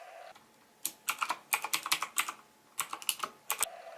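Rapid bursts of clacking keystrokes on a cheap, loud Ecotec mechanical keyboard with a plastic frame and screwed-on aluminum plate, typed in quick clusters separated by short pauses, close and clear.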